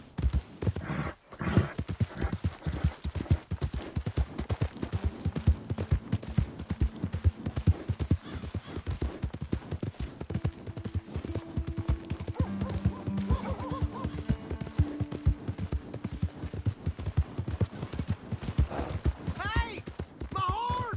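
Horse hooves clip-clop steadily in Red Dead Redemption 2, with a whinny or neigh rising near the end, as someone talks over much of the ride.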